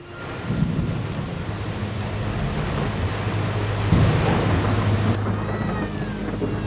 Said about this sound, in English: A fierce storm erupts, heralding the coming monsoon